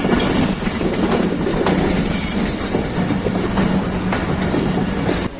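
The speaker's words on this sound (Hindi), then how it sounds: "पाकिस्तान एक्सप्रेस जेहलम पहुंच रही है," The Pakistan Express rolls into Jhelum station, a loud, continuous rumble of railcars with rhythmic clickety-clack from the wheels on the rails and an occasional faint squeal, heard close up with no talking.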